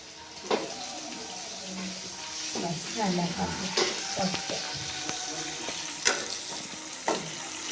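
Onion and tomato sizzle in a pan for mutton gravy, a soft continuous fry with a few sharp scrapes and clatters of the spoon, while a voice talks over it.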